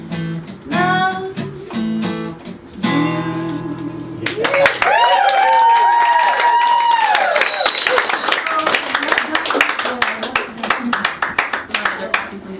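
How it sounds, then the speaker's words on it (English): Scattered hand clapping from a small audience after a song at a living room concert, starting under a final sung phrase and piano notes, then a close, sustained patter of applause with some voices mixed in. "They're clapping from the kitchen."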